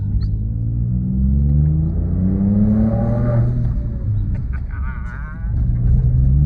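A Ford Ranger Raptor engine revs up and down with deep rumbling exhaust, pitch sweeping up then falling, followed by a few crackles near the end.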